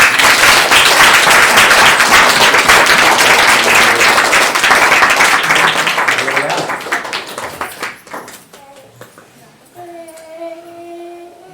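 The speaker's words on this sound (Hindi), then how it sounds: "थोड़ी देर के लिए तालियां बजाएं उसके लिए।" A church congregation claps for Jesus, loud dense applause from many hands that holds steady and then thins out into scattered claps, ending with faint singing or voices.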